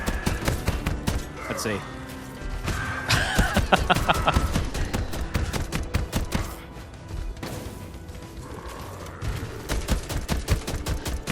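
Rapid weapon fire and grenade blasts in the action roguelike horde game Knights Within, dense repeated sharp bursts nearly continuous, with a brief spoken remark mixed in.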